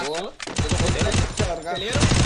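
Gunfire in a multiplayer shooter video game, a rapid burst of sharp shots close and loud, heard under excited players talking over each other.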